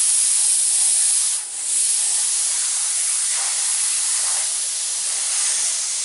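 An airbrush sprays thinned paint in a continuous bright hiss, with one short break near the start and small swells in strength as the flow is worked across the surface.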